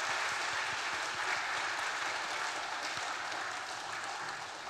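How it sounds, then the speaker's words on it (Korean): Sustained applause from a church congregation thanking a pastor after a sermon at a Sunday school dedication worship service, a steady dense clapping that stays loud throughout and tapers slightly at the end, with no talk over it. "박수로 목사님께 감사를 드리겠습니다"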